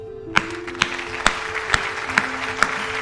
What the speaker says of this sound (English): I gotta clap it up for y'all.